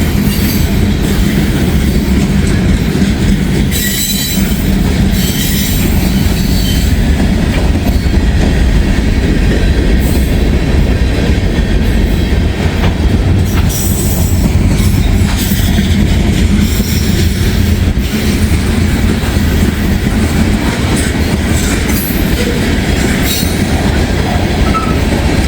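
A train rolls past in a Dayton rail district, loud and close, with a continuous broadband rumble, clickety-clack of wheels and occasional metallic squeals running steadily for the whole stretch.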